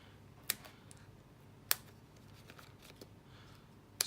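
Scissors snip mini dimensionals for a card-craft project, with a few sharp, faint cuts spaced over several seconds amid soft handling noises and quiet room background.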